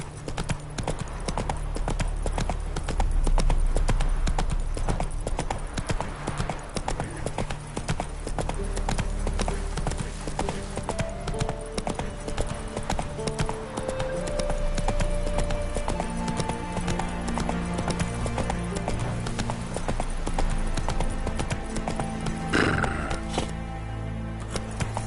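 Roach the horse gallops in The Witcher 3, with a continuous rapid clip-clop of hooves under game music and ambience, held steadily for the full stretch.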